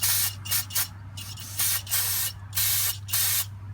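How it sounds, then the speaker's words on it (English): Brake cleaner sprays onto a Ford Ranger brake caliper mount in repeated hissing bursts of about half a second each, close and fairly loud, over a low steady hum, with no voices. "Gonna shoot some brake clean on here to get the rust inhibitor off."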